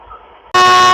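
A WAP7 electric locomotive at Anand Vihar Terminal in Delhi blasts its horn, a single loud, sustained, nearby tone cutting in abruptly after a half-second of quieter station hum.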